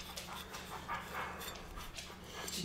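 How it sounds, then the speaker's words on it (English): Dog panting close by, soft rhythmic breathy huffs with a faint whimper at the end, quiet and without talk. "So she is unofficially my therapy dog, right?"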